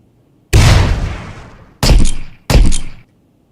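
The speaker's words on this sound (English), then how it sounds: "It's retro, it's an explosion." Three retro-style grenade explosion effects for a zombie attack game, each a sharp, loud blast with a decaying rumble, the first longer and the other two quick in succession, with no talk.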